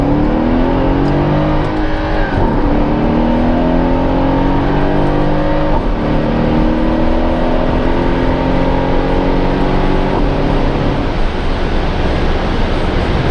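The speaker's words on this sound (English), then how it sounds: "let's give it a little bit of throttle in second gear" A Mercedes SL63 AMG engine with a P30 performance pack revs hard and continuously in second gear, its pitch sweeping up and dropping back repeatedly, loud, close and steady throughout.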